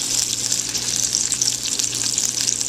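Salisbury steak patties fry in a pan, a steady, close sizzle with bright crackling spatters running unbroken and fairly loud throughout.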